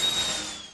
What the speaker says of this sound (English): Yep, that's the sound of a dentist drill.